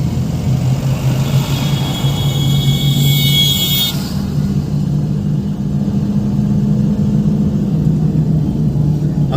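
A car engine hums steadily during a driving lesson with gear shifts, a close, continuous mid-pitched drone inside the cabin that eases slightly partway through, with no talking over it.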